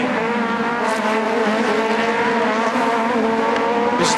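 Aussie Racing Cars screaming at high revs around the Adelaide street circuit, a dense, loud, continuous engine wail from several cars battling closely with slight pitch shifts as they pass.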